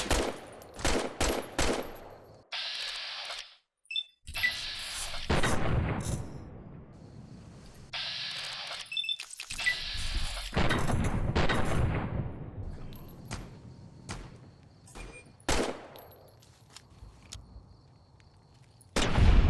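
Gunfire in Fallout: New Vegas: rapid bursts of sharp shots in clusters, loud and close, with pauses between volleys and a few single cracks near the end.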